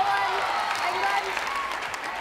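A netball crowd at a South Africa versus England match claps and cheers loudly throughout, a dense continuous wash of applause.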